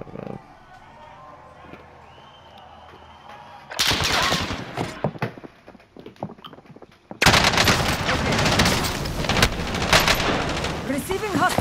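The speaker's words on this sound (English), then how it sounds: "Receiving hostile fire." Video game gunfire erupts in bursts of rapid shots and automatic fire, loud and close, following a quieter stretch with faint game sounds and voices talking over it.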